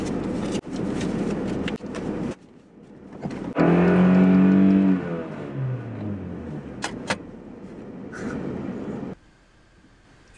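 A car pulls away and accelerates on a drive heading home from the mountains, its engine rising in a loud burst with climbing harmonic tones before settling into a steady cabin hum.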